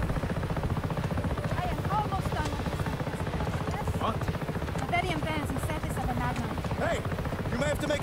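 A helicopter in the video game Just Cause 3 gives a steady, loud rotor thrum throughout, with voices shouting over it.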